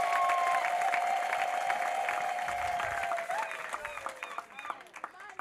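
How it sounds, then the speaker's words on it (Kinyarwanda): An audience claps at a religious gathering, giving a steady wash of applause that thins toward the end, with a voice carrying over it. "muyikomera amashyi niba mwayagendanye"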